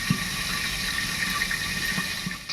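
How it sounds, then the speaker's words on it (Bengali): Water trickles steadily into a bowl of dry spice mix of coriander powder, Kashmiri chilli powder and ground white and black mustard, a soft continuous pour close by with no talking. "এবারে অল্প জল দেবো"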